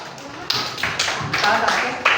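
A classroom of young students claps together for a classmate during an elementary science lesson on magnets, a few sharp bursts of close hand clapping with a murmur of voices between them.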